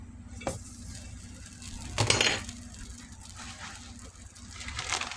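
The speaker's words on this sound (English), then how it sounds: "We're also going to add a capful of olive oil. That's right. Let's put in our bread and toast it." Bread toasts in olive oil in a frying pan with a soft, steady sizzle, broken by a sharp clatter of a utensil against the pan midway.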